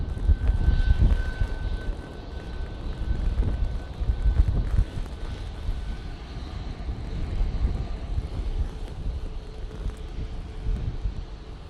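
An airliner departs Manchester Airport, its engines giving a heavy, rumbling roar that builds early and then fades gradually into the distance, with wind noise over the microphone.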